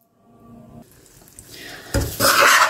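Powdered nuts are stirred into a gond barfi mixture in a pan, starting quiet and building to louder scraping and sizzling toward the end, close up with no talk.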